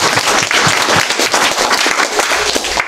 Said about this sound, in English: let's give a round of applause for the participants